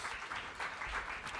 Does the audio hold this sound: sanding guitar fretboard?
no